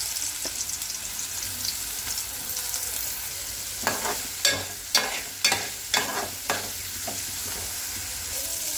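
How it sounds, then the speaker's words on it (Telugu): Chopped ridge gourd pieces fry in hot oil in a village-style kitchen, giving a steady sizzle under a run of stirring scrapes and clinks in the middle. "ఈ ఆయిల్లోనే నేతి బీరకాయని ముక్కలు ముక్కలుగా కట్ చేసుకుని ఫ్రై చేసుకుందాం."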